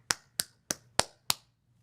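Five sharp, evenly spaced claps or slaps, close and crisp against near silence, imitating booty clapping.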